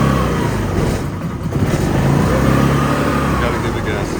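An old, neglected moped engine revs up as it is given gas, a rough mid-pitched drone that swells and rises, heard close under a voice talking.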